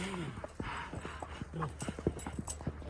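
A horse walks along a mountain trail near Pahalgam in Kashmir, its hooves clip-clopping in a steady close rhythm, with muffled voices and outdoor sounds around it.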